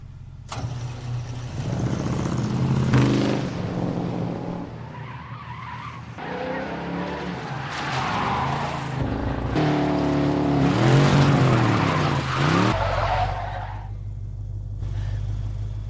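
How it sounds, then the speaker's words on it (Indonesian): A car speeds on an airfield track, its engine revving hard as the tires squeal and skid in long wavering sweeps, with a few bursts of acceleration, loud and close. "menancap gas mobilnya tersebut di pacuan"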